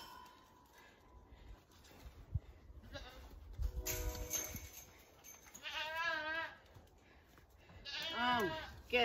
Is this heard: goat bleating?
yes